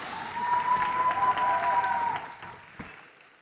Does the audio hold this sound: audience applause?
yes